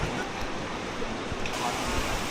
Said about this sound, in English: Welcome to Tumpak Sewu Waterfall!